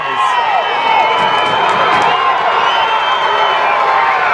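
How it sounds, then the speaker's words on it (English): A soccer crowd at a men's league final in Ontario roars and cheers after a goal, a dense, steady wall of distant shouting that stays loud throughout with no break. "And you can hear the crowd is going"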